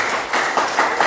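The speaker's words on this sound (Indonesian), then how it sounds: "Sekali lagi tepuk tangan untuk kalian semua yang sudah membuat kesepakatan" A classroom of students claps together in a brief burst of steady, dense applause, fairly close and without any talking over it.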